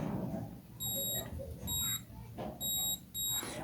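A multimeter gives a series of short, high-pitched electronic continuity-test beeps on a mobile phone circuit board, in uneven bursts, four in total, over a soft background hum.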